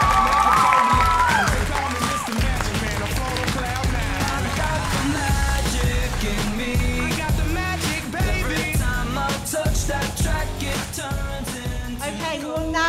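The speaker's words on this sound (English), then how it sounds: "Please give them a round of applause." Audience applause and cheering at a school Oscars awards night at Howick College, for the Arts Council leaders, loud and dense, mixed with music that plays throughout.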